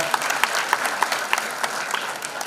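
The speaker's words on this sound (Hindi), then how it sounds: "पद्मश्री कैलाश खेर जी के लिए एक बार और मेरी तरफ से जोरदार तालियां होना।" Steady applause from an audience at a Nayii Udaan event honoring Padma Shri Kailash Kher, dense clapping with sharper claps popping out at an irregular rhythm throughout, no voices.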